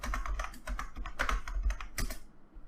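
Typing on a computer keyboard during an SSH login, a steady run of close, crisp key clicks with a few louder strokes, then a short pause at the end.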